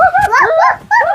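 A person imitates a dog barking with two quick, yelping bark-like cries, close and loud, in a short burst with a brief pause between them.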